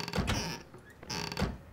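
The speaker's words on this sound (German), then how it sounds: "Ich glaube, das ist mein Spiel, was immer hier die ganzen Türen aufmacht." Doors in the survival game 7 Days to Die creak open twice in a row, each a loud, drawn-out creak with a grinding mechanical edge and no voices over it.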